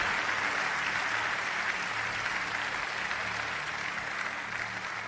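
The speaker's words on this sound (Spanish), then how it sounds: "Fuerte el aplauso a Dios." A church congregation applauds, a dense, steady wash of many hands clapping that holds evenly from start to end with no voices.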